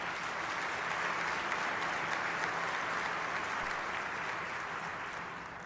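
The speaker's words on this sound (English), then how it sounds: "Please give one more round of applause for Travis Mason." At a business group's annual meeting, a large audience applauds in a steady, dense wash of clapping that holds evenly from a moderate distance and fades slightly at the end.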